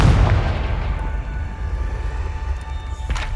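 The Confringo fire spell in the video game Hogwarts Legacy goes off as a deep, loud blast with a booming rumble that gradually fades, and a small crackle comes near the end.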